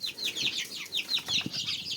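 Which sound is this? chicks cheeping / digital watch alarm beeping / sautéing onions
chicks cheeping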